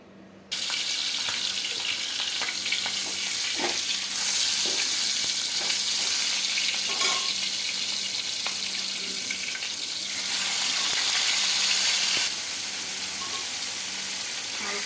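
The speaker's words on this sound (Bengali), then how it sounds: "কারণ মাছটাকে আমি ভেজে নেব।" Fish fries in hot oil in a pan, a loud, steady, close sizzle with crackling spits that starts abruptly and continues without pause, swelling slightly in intensity at moments.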